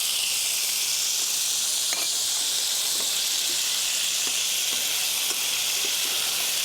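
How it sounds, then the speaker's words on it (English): Onions frying in hot oil with mustard and cumin seeds, a loud constant bright sizzle with faint scattered pops and ticks, close up with no voices. "You can see the spices popping. Now I'll add the onions first"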